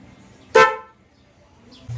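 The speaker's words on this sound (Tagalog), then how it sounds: "Passing light with horn." One brief, loud motorcycle horn beep stands out near the start, fading quickly into low background noise.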